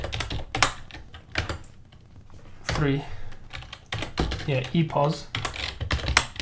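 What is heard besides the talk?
typing code on a computer keyboard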